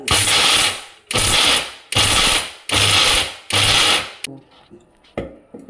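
A mixer grinder pulsing peanuts whirs in five loud, short pulses of about a second each, evenly spaced, followed by quieter clatter as it stops.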